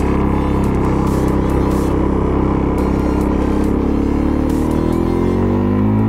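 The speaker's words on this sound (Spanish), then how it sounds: "Tiene unos 36 caballos, más o menos, pero claro, al tener solo un cilindro tiene mucho par motor y eso le da un empuje bastante increíble" Suzuki LTZ 400 quad with a single-cylinder engine revving hard and close, a loud, dense, continuous roar whose pitch climbs steadily toward the end, with no talk.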